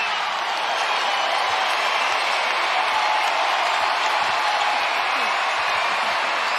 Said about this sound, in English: listen to this crowd start to come along